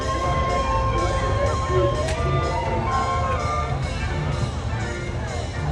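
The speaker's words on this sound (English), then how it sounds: "So this has got a crowd pulled." Dense crowd of spectators at a 1940s weekend event in Lytham, a steady wash of many overlapping voices and chatter throughout with occasional louder shouts, fairly close and continuous.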